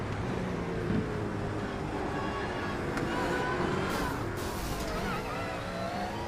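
Onboard a race car at the Nurburgring 24 Hours, a steady engine drone runs under heavy wind and road noise, with rising and falling tonal sweeps as it closes on a car ahead that has run out of fuel.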